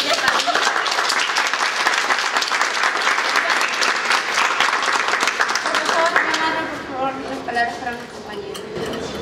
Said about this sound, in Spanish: quiero que le den un aplauso primeramente